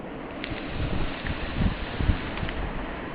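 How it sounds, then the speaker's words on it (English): Strong winter blizzard wind gusting up to 70 km/h through an open door, a steady low roar with rising and falling gusts and faint flapping of prayer flags, no voices. "Wind and blowing snow."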